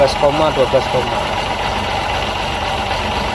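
A Daihatsu Ceria's engine idles with a steady, even hum and light vibration. A voice talks over it briefly at the start, then the engine runs on alone.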